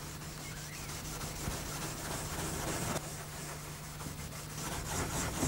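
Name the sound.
scuffing a shellac finish with 3/0 steel wool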